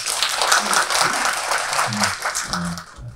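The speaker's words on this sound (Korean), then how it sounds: "힘찬 박수 부탁드리겠습니다." Audience applause welcoming a Yonsei University professor to the stage at a youth talent forum, a dense clapping wash that fades near the end, with a voice briefly audible.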